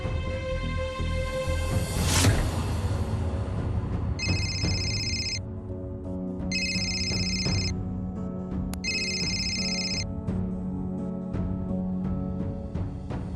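A telephone rings on an outgoing call, sounding three evenly spaced bursts of bright electronic trilling over steady background music, with no voices.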